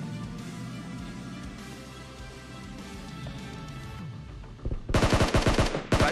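Automatic gunfire in the mobile battle royale game PUBG Mobile, a loud rapid string of close shots bursting out near the end after a stretch of busy game sound.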